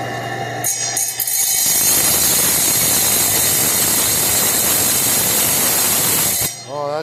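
A belt-driven rock saw starts up and runs for several seconds with a loud, steady, broad mechanical whir and grind, then cuts off abruptly near the end.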